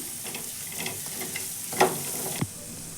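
Turmeric roasting in oil over a low gas flame for a round gourd sabzi, with a soft continuous sizzle and a couple of distinct scraping stirs of a spoon against the pan.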